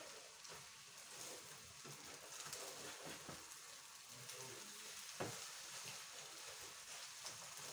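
Food fries quietly in a pan, a soft, steady sizzle with occasional crackles and small stirring sounds, heard from close by at low volume.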